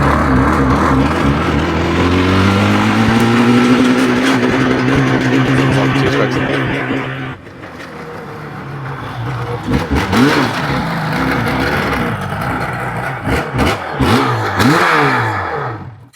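A Yamaha RD500 two-stroke motorcycle engine sputters to life and revs hard in rising bursts, briefly dropping off before roaring and revving again up close.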